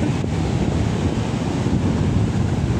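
Sea waves surge up close to a beach resort hut in a continuous loud wash of surf, with wind buffeting the microphone throughout.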